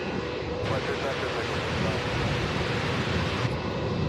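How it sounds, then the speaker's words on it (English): A Jetstar airliner taking off from runway 27 at Melbourne Airport gives a loud, steady broadband jet engine roar, heard close and continuous throughout. "Jetstar 776, runway 27 cleared for takeoff."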